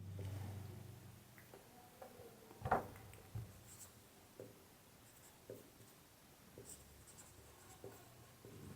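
Pen scratching across paper while a maths solution is written out, a quiet continuous scribble broken by soft taps and strokes, close up with no talking.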